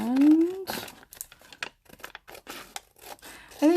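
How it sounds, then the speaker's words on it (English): Scissors snip paper in a series of quick, close cuts with crinkling between them, and a brief voice sound at the start and end. "So I'm just gonna trim with my scissors."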